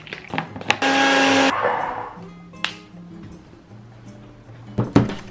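A kitchen blender whirs loudly for under a second while making a smoothie, then winds down, followed by clinks of glass and scattered handling knocks.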